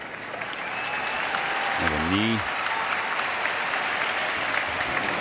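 A large Tokyo Dome crowd at a Korea versus Japan baseball game fills the space with a broad, continuous roar of applause. A commentator speaks briefly over it.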